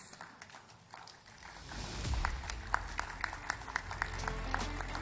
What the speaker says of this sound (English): a huge round of applause for each one of us here